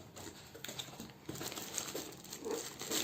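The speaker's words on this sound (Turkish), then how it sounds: "filemizi açıyoruz" Plastic packaging of a table tennis net being opened at home, continuous close crinkling and rustling handled over a few seconds.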